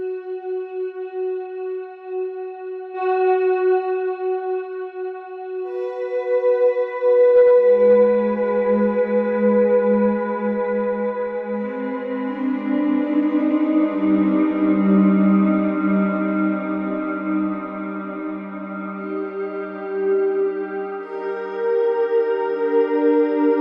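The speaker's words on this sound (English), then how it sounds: "this is what it sounds like maybe with all the reverbs on." Sustained guitar notes through a GT4R amp plugin with all reverbs on bloom into a wide, washy reverb, layered tones ringing and overlapping into a long, spacious atmospheric swell with no talking.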